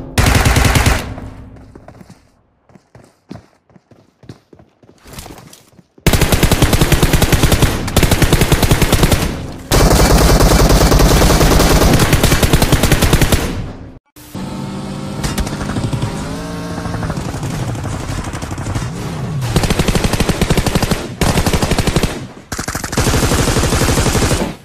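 Gunfire in PUBG Mobile: loud, close bursts of automatic fire and rapid single shots, broken by short gaps and a stretch of rhythmic engine-like rattling, with no talk.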